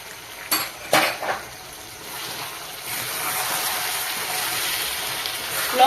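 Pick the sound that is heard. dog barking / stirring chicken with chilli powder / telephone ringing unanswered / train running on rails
stirring chicken with chilli powder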